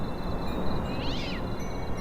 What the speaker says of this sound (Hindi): भाई वहां कोई बिल्ली बैठी है क्या?